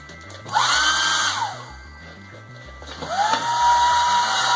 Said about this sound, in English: I do believe I will be zapping this dry with a hairdryer